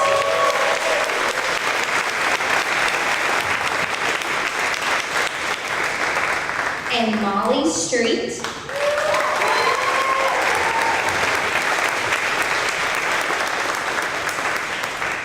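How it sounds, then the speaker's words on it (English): A crowd applauds students receiving trophies at a fifth grade promotion event, steady continuous clapping throughout while a voice briefly speaks over it midway. "Let's give him a round of applause."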